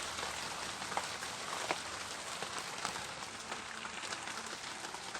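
Rain beats down on the roof of a cabin workshop as a soft, steady hiss with scattered tiny drop ticks. It is fairly faint and continuous, with no voices.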